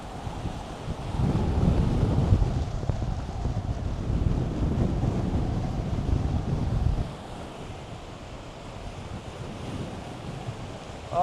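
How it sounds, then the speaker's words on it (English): Strong coastal wind at Cockle Creek, Tasmania, roars and buffets hard against the microphone, heavy and gusty at first, then easing to a softer rush for the last few seconds. "Incredible wind."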